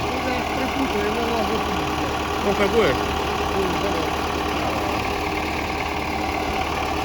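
An old tractor engine idles with a steady, uneven mechanical rumble close by, while people talk over it briefly.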